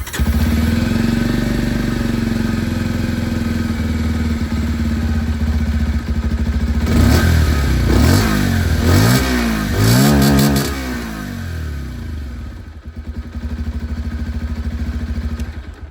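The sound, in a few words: Bajaj Pulsar 125 motorcycle exhaust sound, engine revving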